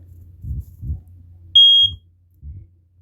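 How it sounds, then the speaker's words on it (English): A household smoke alarm, set off with its test button, gives a single short piercing beep, then falls silent; soft thumps and handling noises come before and after it. "It's supposed to make a little 3 beeping sounds and quit."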